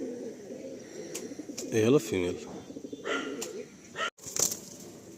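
Andhra pigeons coo softly at a loft in Sodepur, with someone talking nearby and a brief rustle of wings.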